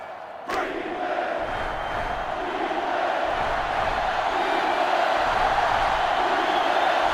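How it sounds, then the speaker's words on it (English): A dense stadium crowd in the video game NCAA Football 2005 roars and jeers continuously at a college football game, a broad, loud wall of voices that swells slightly and never lets up. "The crowd is really letting him hear it."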